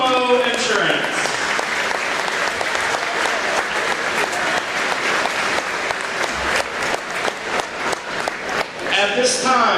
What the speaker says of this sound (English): please give a round of applause for Pumo Insurance